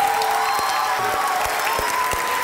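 A studio audience at a comedy talk show claps to welcome a Pakistani sports journalist, a dense patter of hands with a few sharper claps standing out, alongside a faint sustained tone.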